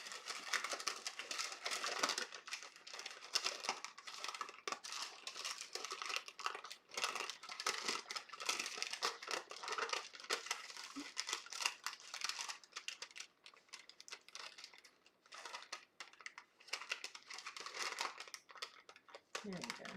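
Rolled sugar cookie dough being gently peeled off paper, giving close, continuous crinkling and crackling with small papery snaps, with a voice speaking over it.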